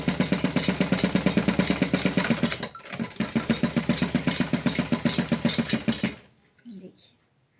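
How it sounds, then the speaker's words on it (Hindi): A sewing machine stitches folded blouse fabric with a fast, even mechanical chatter. It pauses briefly near the middle, runs again, then stops, leaving a moment of near quiet, all heard close up. "और हम ये पूरे में कच्चे करके सिलाई लगा लेंगे।"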